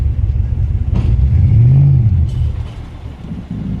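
A 1989 Mustang GT Foxbody engine runs loud and close as the car drives up onto a trailer, a steady low rumble that swells briefly into a revving rise midway before settling back.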